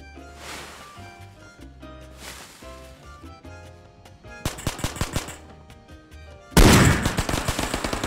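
Gunfire from a Barrett rifle in the VR shooter Ghosts of Tabor: a stretch of quieter ambience gives way to a rapid burst of sharp shots, then a much louder, dense volley that stays intense to the end.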